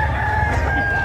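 A rooster crows once, briefly and close, at a chicken market in Padre Garcia, Batangas, over a steady bed of low market noise.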